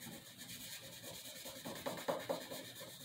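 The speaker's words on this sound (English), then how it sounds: "and just rub it in there like that." Walnut oil being rubbed by hand into the exposed finish of a wooden table, a faint, steady scrubbing with a few slightly louder strokes near the end.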